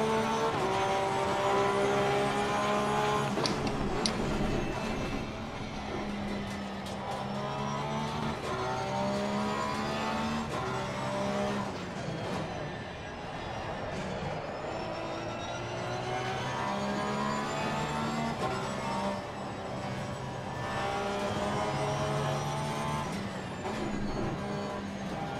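A Porsche race car engine in the Assetto Corsa Competizione racing game roars steadily for the whole stretch, its pitch climbing and dropping again and again through gear changes, loud and close, with no talking.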